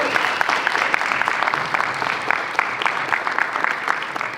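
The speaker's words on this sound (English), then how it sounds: "Big round of applause again for Nick" An audience claps for performer Nick at a live performance night, a steady, dense and fairly loud wash of clapping that holds evenly throughout with no one speaking over it.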